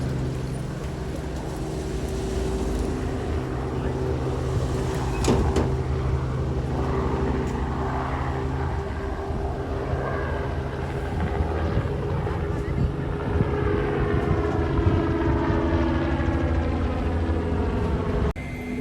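A helicopter drones steadily overhead, its rotor and engine noise mixed with wind buffeting, and a voice speaks over it.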